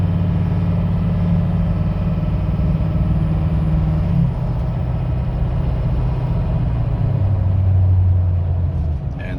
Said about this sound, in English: you see the turbo is spooling up